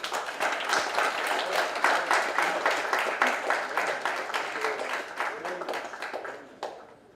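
An audience claps steadily and fairly loudly through a landscape architecture scholarship programme event, with the sound tapering off near the end. Faint voices murmur underneath.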